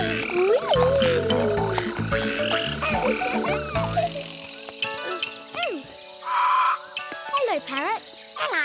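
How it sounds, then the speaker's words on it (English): Tree frogs croaking in a jungle scene of the cartoon Charlie and Lola, cartoonish croaks and chirps over music with children's voices talking. "Tree frogs!"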